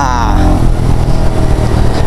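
A Royal Enfield motorcycle rides along at steady speed on a trip from Ambernath to Shivneri Fort, its continuous low engine rumble and wind noise loud and close throughout.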